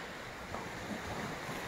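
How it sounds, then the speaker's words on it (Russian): Sea waves wash onto the beach at Vityazevo in a steady, broad rush, mixed with wind buffeting the microphone, with no voices. "Вот такие волны, такие тучки."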